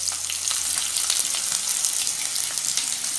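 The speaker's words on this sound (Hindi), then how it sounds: "तेल गर्म हो चुका है हमारा अब मैं इसमें प्याज डाल दूँगी जो हमने काट के रखी थी" Chopped onions drop into a pan of hot oil for chicken Mughlai and fry with a loud, dense, steady sizzle and fine crackling spatter throughout, close up with no talk.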